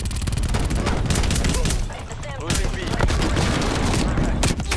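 Dense, rapid gunfire from a Street Sweeper shotgun in Call of Duty: Black Ops Cold War, loud, with a brief lull midway, while a player talks over the shooting.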